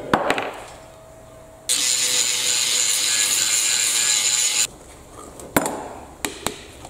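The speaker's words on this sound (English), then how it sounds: "Well, the grinding disc." Angle grinder running a grinding disc, a loud steady high-pitched whine for about three seconds, then cut off, followed by a few sharp metallic knocks and clatters.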